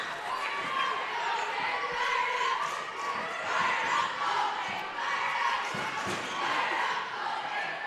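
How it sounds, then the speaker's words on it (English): Crowd noise in a gym at a girls high school basketball game, a continuous murmur of spectators swelling in waves, with sneaker squeaks and ball thumps from the court and a commentator talking over it. "Crowd starting to get into the Tigers"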